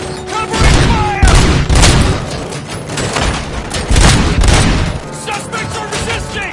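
Heavy covering gunfire in the Robo-Cop video game, loud bursts of shots and booms in several waves with brief pauses between them.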